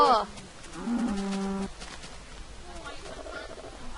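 A cow moos in Minecraft 1.2.5 survival play: one clear, drawn-out, nasal moo close up, with brief game noises and voices at the edges of the clip.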